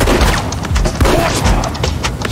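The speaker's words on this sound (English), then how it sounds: "They're gonna use the Gatling gun." Gatling gun firing in Desperados 3, loud rapid repeated shots with booming impacts in a continuous barrage, close and heavy.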